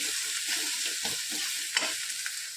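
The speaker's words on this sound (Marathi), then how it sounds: "अशी मिक्स करून घ्यायची आहे" A spoon stirs a sizzling mixture with fresh coriander in a pan, a steady frying hiss under rhythmic scraping strokes and a few sharper knocks against the pan.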